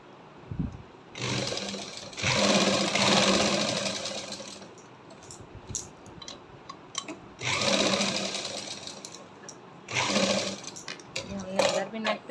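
An electric sewing machine stitches the neck of a suit in three long whirring runs with short pauses between, close and steady, broken by lighter clicks and handling noise.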